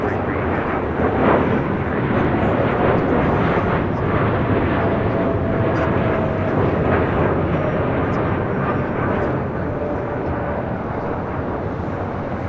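An American Airlines Boeing 787-8 Dreamliner takes off from LAX bound for Dallas Fort Worth, a steady, loud jet roar that holds for the whole stretch with people talking over it.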